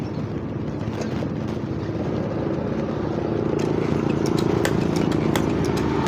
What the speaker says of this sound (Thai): แค่นี้ก็สูบได้แล้วนะครับ